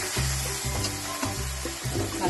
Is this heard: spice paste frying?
yes